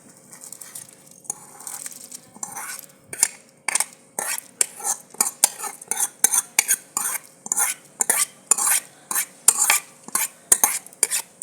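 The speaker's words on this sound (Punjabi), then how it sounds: "ਤੇ ਆਪਾਂ ਚੌਲ ਪਾ ਦੇਾਂਗੇ" A utensil stirs rice into a pot of boiling water in steady repeated strokes, each a sharp scrape and clink, close by with no voices.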